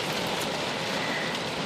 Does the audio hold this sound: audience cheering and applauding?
no